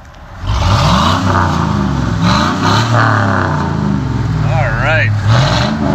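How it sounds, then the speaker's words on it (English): An old Chevrolet Z71 4x4 work truck with a low-restriction muffler revving up loud and close in a sustained, rumbling burst, rising and falling in pitch, with brief talk at the start. "Let me hear it rumble, hang on."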